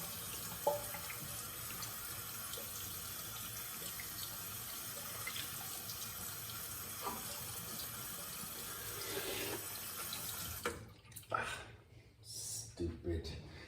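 A tap running steadily at a sink while a Weck Sextoblade razor is rinsed; a soft, continuous stream of water close by, then breaking into splashes and handling sounds near the end, with a voice faintly present.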